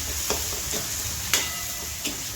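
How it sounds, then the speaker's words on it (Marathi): Tomatoes frying in a pan with turmeric and homemade chili powder, a steady soft sizzle with a few light clinks of stirring spaced through it, no voices. "फ्राय करून घ्यायचं"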